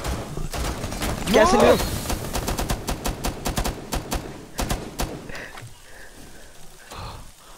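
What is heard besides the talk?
gunfire in video game Rainbow Six Siege Terrorist Hunt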